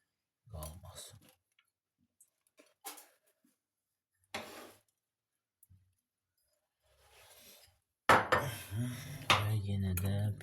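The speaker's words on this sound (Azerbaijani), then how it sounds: "Və yenə də belə çəngəllə belə basırıq ki, tam yerini alsın." A fork presses down the layers of a Lay Lay salad in a dish. Sparse, faint clinks and scrapes of metal on the dish come through quiet gaps, and louder talking takes over near the end.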